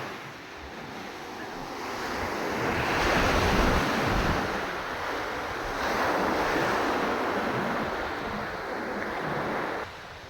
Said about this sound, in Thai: วันนี้ก็เลยมี คลื่น